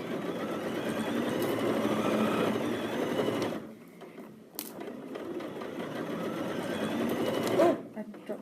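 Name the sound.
sewing machine stitching a seam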